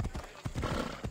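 Phobos the horse in Assassin's Creed Odyssey gallops with quick, rhythmic clip-clopping hooves and a short neigh, faint and brief under game ambience.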